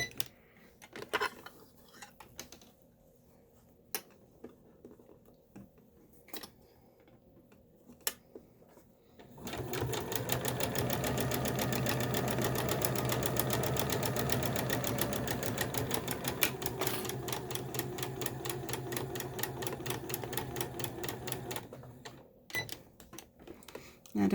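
A sewing machine stitches elastic into a fabric face mask, a steady mechanical whirring that starts about ten seconds in and runs continuously for roughly twelve seconds before stopping, after quieter handling clicks.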